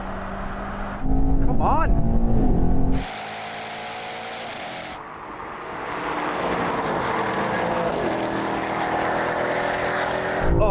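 An Audi RS6 GT, BMW M5 CS and Mercedes-AMG E63 S launch in a drag race on a wet surface, engines roaring loudly and rising in pitch from the line, with a voice talking over them.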